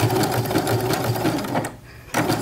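Domestic sewing machine stitching down the end of a strip of elastic, a close, fast rhythmic whir that runs steadily, stops briefly near the end, then starts again.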